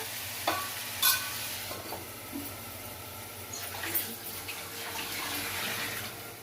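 Tomatoes fry in a pan for cucumber chutney, giving a soft steady sizzle with a few sharp clicks and scrapes of stirring scattered through, fairly quiet and close.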